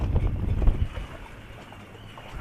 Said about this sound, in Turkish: Hep böyle rüzgarlı hava.